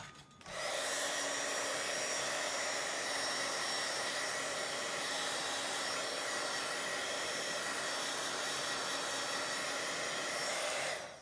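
A handheld dryer blows a continuous, loud, steady whoosh over paint on a decorated fall journal envelope, running without pause for about ten seconds, with no voices.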